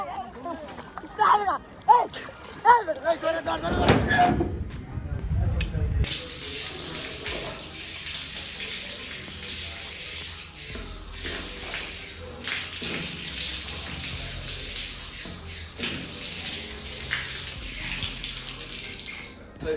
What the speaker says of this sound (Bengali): আমি একটা ডুব দিই কারণ হুন্ডা যাতে না পড়ে